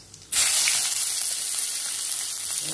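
Onion dropped into hot oil bursts into a sudden loud sizzle after a brief quiet moment, then keeps hissing steadily and close by.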